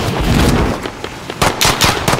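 Video game gunfire crackles in quick bursts, loud and close, with uneven rapid shots clustering and stopping over a couple of seconds.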